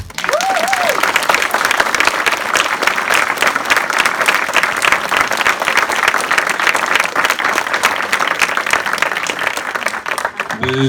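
An audience at a list presentation in a hall bursts into loud, sustained applause for Michel Marraine, dense clapping holding steady, with a brief voice early and another voice at the very end.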